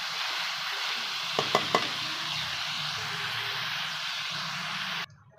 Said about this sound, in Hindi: अब शिमला मिर्च भी मैंने फ्राई करके निकाल लिया